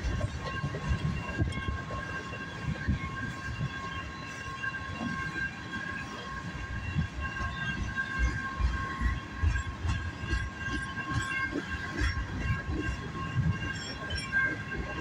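A CSX freight train rolls past in Michigan, USA, a fairly quiet, continuous rumble of railcars with faint rhythmic wheel clatter and some squeal throughout.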